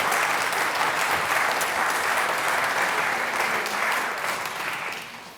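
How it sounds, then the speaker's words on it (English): Audience at a community awards ceremony applauding steadily, a dense close wash of clapping that holds for several seconds and then fades. "Another round of applause for them."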